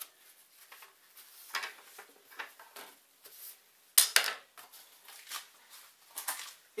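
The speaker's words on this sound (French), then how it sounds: "Vous nettoyez vos couverts comme il faut." Cutlery and dishes clink and scrape at a table as they are cleaned, in scattered light taps and brief rattles with quiet gaps between them, one sharper clatter midway, close by and with no voices.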